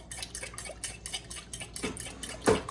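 Whisk beating six eggs with melted butter in a bowl for pecan cobbler, a fast, steady rhythmic ticking and sloshing with a couple of louder clinks against the bowl, close and alone.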